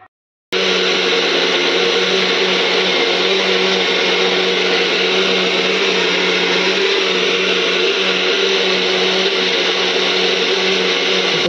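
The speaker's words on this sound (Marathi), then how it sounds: "आता आपण हे सगळं मिश्रण मस्त बारीक वाटून घेऊया." A mixer grinder runs steadily and loudly, grinding a tomato gravy mixture with a constant high whirring drone after a brief silent start.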